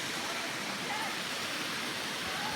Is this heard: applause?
no